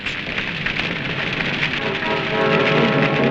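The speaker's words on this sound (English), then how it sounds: "And others had rain." Heavy rain in Europe during the 1965 Italian floods pours down as a steady, dense hiss of falling water, close and fairly loud, and it builds slightly toward the end with no voices.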